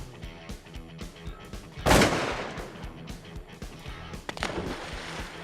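A shotgun loaded with high velocity shells fires a single loud blast at ducks during a Louisiana duck hunt, followed by a decaying rumble and a softer second crack amid outdoor background noise.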